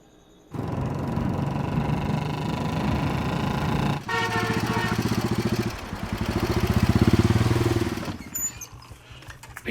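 A motorcycle engine runs close by at a steady idle, its low rumble continuous, with a shift in tone midway as the revs rise and swell before easing back down.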